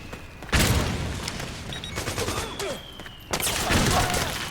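Gunfire rattles in Metal Gear Solid 4, with bursts of loud automatic shots and booming blasts in a chaotic battle, while soldiers' voices shout in the mix.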